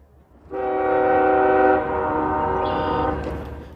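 A CSX eastbound coke freight train's horn blares loudly in a long sustained blast, then a second shorter blast follows over the rumble of rail cars, at Pine Junction in Gary, Indiana.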